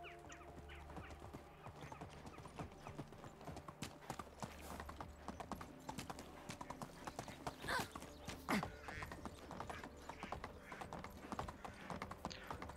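Horse hooves clip-clop in a steady rhythm as a rider travels in the video game Medieval Dynasty, with faint scattered background sounds mixed in.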